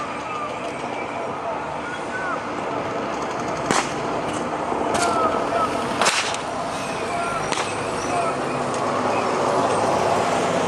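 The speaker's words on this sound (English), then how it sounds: "We have a number of Soviet vehicles now entering the arena as they're coming across" Soviet military vehicles roll into an arena during a tank parade at Bovington Tank Museum, a steady broad rumble and roar with occasional sharp cracks, heard at a distance under a commentator's voice.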